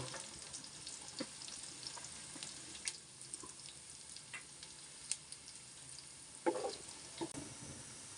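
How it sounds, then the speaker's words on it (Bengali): Onions sizzle in hot oil for a duck curry, a quiet steady frying hiss with scattered small pops and clinks from the pan, one louder burst near the end, and no talking. "তেল গরম হয়ে গেছে পেঁয়াজ দিয়ে দেব"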